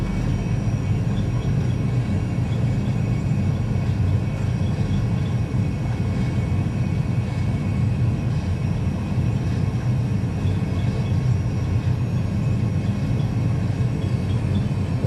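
Airbus A320 engines spooled to takeoff thrust in a flight simulator give a steady, dense broadband roar and rumble that holds constant throughout at moderate level, with no voices.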